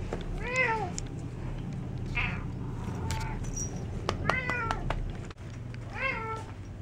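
A cat meows several times, close by, in short rising and falling calls with brief pauses between them.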